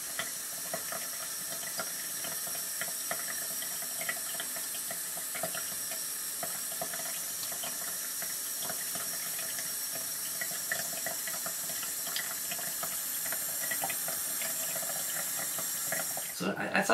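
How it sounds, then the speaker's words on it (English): Water runs steadily through a homemade print washer, draining out of holes drilled into the washing pan, a continuous soft hiss and patter with faint background sounds. "the water drips down the print, and it just escapes through the holes drilled into"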